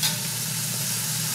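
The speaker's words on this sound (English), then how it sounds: "So we're going to let the salmon cook more" Salmon fillets searing in a frying pan, a dense, even sizzle held close and constant throughout, with no voices.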